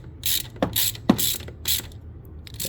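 A ratchet tightens the water temperature sensor on a 2012 Nissan Juke SV 1.6L turbo, several close, quick clicking pulls with short pauses between strokes.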